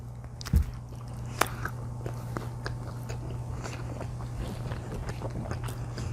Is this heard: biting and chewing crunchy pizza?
yes